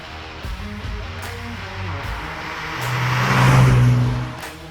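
A 2017 Nissan 370Z Nismo drives along with a steady engine drone that swells into a louder rev and settles again, heard from inside the car.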